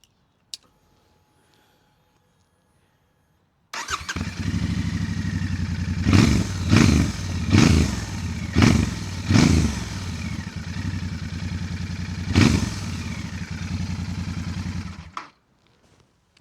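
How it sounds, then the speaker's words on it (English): A Royal Enfield Bear 650 motorcycle with a 2-into-1 exhaust starts up after a brief silence, then settles into a loud, steady idle broken by several sharp throttle blips before cutting off. "Let's start her up and just hear the sound."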